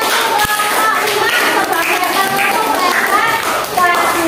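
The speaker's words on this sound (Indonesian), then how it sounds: "Tepuk tangan." Students in a primary-school classroom clap their hands together as a group, a steady busy patter of many hands close by, with children's voices and chatter mixed in throughout.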